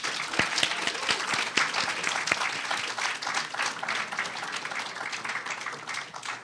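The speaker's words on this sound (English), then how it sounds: "And let's give one round of applause to all of the groups." A round of applause from the audience at a nanoscience summer institute's final group presentations, steady clapping throughout at moderate level, with no voices over it.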